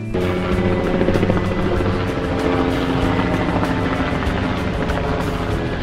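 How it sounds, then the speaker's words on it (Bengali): A helicopter passes over a quiet mountain town, its loud, continuous rotor thump and engine drone filling the whole stretch at near-steady volume with no voices. "পাখির মতো উড়ে যাওয়া হেলিকপ্টার আবার এই নীরব জনপদে কিছুটা ভিন্ন শব্দের ঝংকার নিয়ে আসে"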